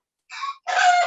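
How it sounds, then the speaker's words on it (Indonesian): A laying hen gives two short, loud clucking squawks close by, a brief higher call and then a longer, fuller cackle, with no talk over them. "suara-suara ayam yang sedang bertelur"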